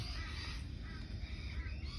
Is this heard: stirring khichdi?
no